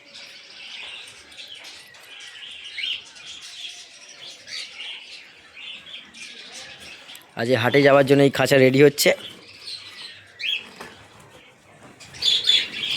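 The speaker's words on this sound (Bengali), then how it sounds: "তো দেখুন সব অ্যাডাল্ট বার্জিগার পাখি আছে" Adult budgerigars in an aviary chirp and twitter steadily in the background, with occasional wing flutters, under someone talking nearby.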